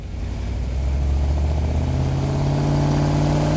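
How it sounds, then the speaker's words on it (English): A Hemi V8 in a classic Plymouth Cuda muscle car runs loud and close, its deep rumble rising slightly and then holding a steady, throbbing drone with no talk over it. "you can see that engine working down in there"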